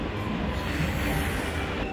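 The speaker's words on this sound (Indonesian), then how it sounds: "Keretanya udah datang guys." A train pulls into a station in Korea with a dense, steady rumble of wheels on rails that holds at a fairly loud level throughout, and nobody speaks.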